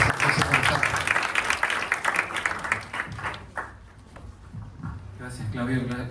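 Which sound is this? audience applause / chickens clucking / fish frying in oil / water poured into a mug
audience applause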